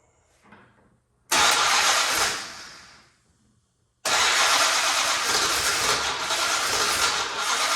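An abandoned barn-find Monaco, off the road for 36 years, cranks and bursts into loud running twice: a first roaring catch that fades out, a pause, then a steady loud run to the end.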